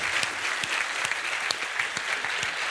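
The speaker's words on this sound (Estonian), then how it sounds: "teeme Meelisele suure aplausi" Audience applause at an Estonian talk on investment strategy: dense, steady clapping from a crowd throughout, fairly near and even in loudness, with no talk over it.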